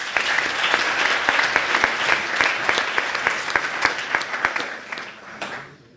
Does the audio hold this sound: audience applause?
yes